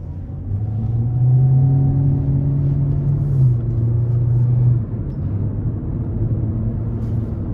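A 2024 Hyundai Elantra SEL's 2.0-litre non-turbo four-cylinder engine hums and drones steadily from inside the car while driving, its pitch rising and then dropping back partway through.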